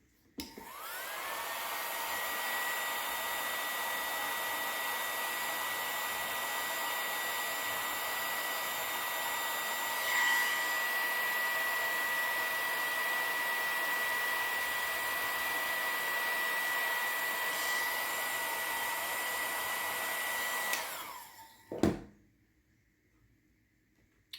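Hair dryer drying craft items, blowing at a steady, loud whine for about twenty seconds before switching off with a brief clatter, no talking.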